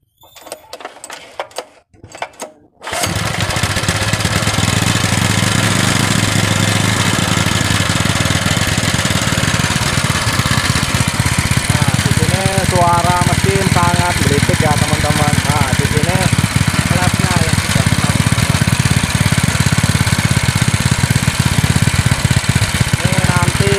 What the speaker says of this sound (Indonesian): Nah, ini mesin engine diesel ya.